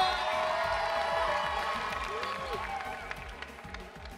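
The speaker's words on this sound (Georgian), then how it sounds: "მხურვალე აპლოდისმენტები არ დავიშუროთ" An audience applauds a couple after their performance on a televised ballroom dance competition, a dense, steady wash of clapping that runs throughout and slowly eases off toward the end, with voices mixed in.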